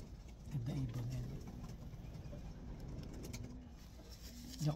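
Racing pigeons kept as one-loft race breeders coo in soft, low, throaty bursts close by, over a constant background hum, with a person talking nearby.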